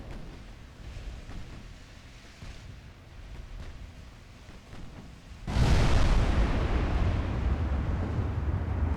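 Warship secondary guns fire in Ultimate Admiral Dreadnoughts: a low rumbling background, then a sudden loud, sustained booming roar that carries through to the end.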